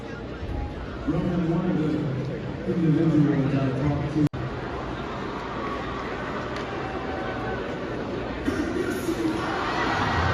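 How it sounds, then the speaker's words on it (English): Crowd at a wrestling house show booing The Rock, a sustained low chorus of boos and arena noise, swelling early, cut by a brief dropout, then continuing steadily. "They're booing it now at the house show events"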